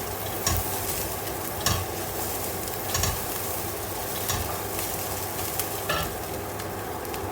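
Curry leaves crackle and sizzle in hot oil, a dense steady hiss punctuated by regular scraping stirs about every second, close and even in level, with no voices.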